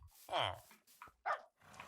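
Short dog barks from a blue-collared tamed wolf in Minecraft, two or three close yips separated by brief silences, with a person talking around them.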